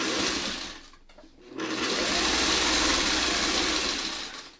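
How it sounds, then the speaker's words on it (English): An electric sewing machine runs steadily, stitching rows of a quilt top together with a continuous whirring hum that dips briefly near the start and then resumes at full speed, close and without talk. "we just keep sewing the rest of this together"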